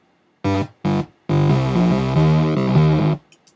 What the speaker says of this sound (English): If I play it with the pitch modulation, the square, I can also change how it sounds